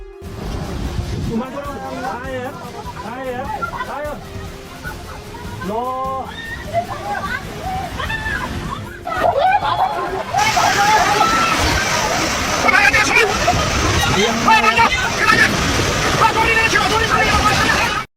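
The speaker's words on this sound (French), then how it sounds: "Les vagues gigantesques au large sont si puissantes et captivantes" Giant ocean waves crash and slosh loudly, growing into a heavy roaring surge midway, with voices talking and calling out over the wash of the waves.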